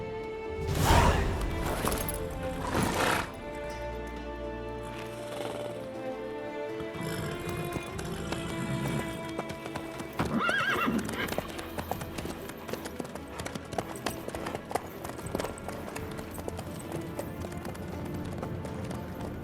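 Rhythmic horse hooves clip-clop steadily beneath a bed of game music in The Witcher 3: Wild Hunt, moderately loud and continuous throughout.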